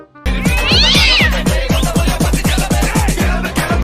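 A cat hiding up in a tree gives a long run of loud, close meows, repeated in quick succession with rising and falling wails, alone with no talk.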